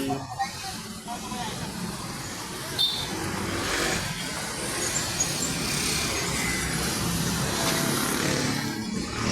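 Highway traffic passes as a steady broadband roar and hiss of vehicles, fairly close and continuous, with a few brief louder swells.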